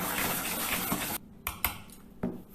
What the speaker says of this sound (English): Use a whisk